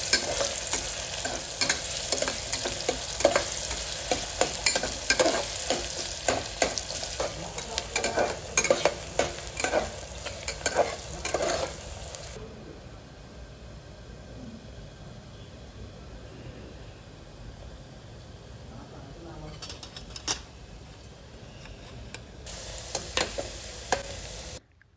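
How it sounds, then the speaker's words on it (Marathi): Finely chopped onion sautés in hot oil for a Maharashtrian chicken rassa, with steady sizzling and frequent scraping stirs that quiet midway, leaving a softer hiss before stirring resumes near the end. "तेल गरम झालं की त्यामध्ये आपण जो बारीक कट केलेला कांदा आहे तो घालून त्याला छान असं परतून घेणार आहे"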